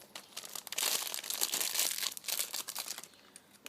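A plastic bag holding a set of metal cake-decorating piping tips is pulled open, producing close crinkling and rustling that swells to a busy middle stretch before easing off, with no talking.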